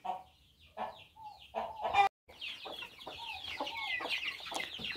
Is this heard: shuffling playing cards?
no